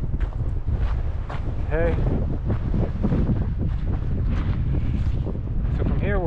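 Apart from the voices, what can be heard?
strong wind blowing on a desert trail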